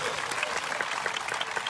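A congregation at a revival meeting claps continuously, dense overlapping hand claps forming a steady wash of applause with no clear pauses.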